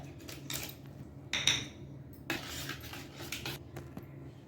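A spoon scrapes and clinks in a pan while stirring onion, coriander powder and salt for khichdi charu, with a few soft, irregular metallic taps and scrapes close by.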